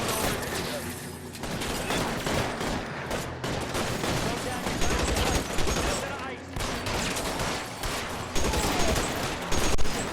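Dense, continuous gunfire rages in an L.A. Noire shootout, shots and bursts overlapping in a loud, chaotic fusillade with no pause, a shotgun among the weapons.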